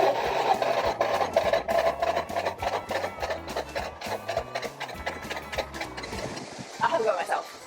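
An old Porsche diesel engine cranks over on the starter and catches, with rapid rhythmic clattering pulses filling the clip at moderate loudness and a brief rougher burst near the end.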